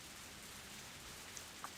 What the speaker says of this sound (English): There is a silence and the sound of rain.